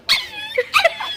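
A human voice imitates a puppy with a few short, high whimpering yips, close and clear, lasting about a second.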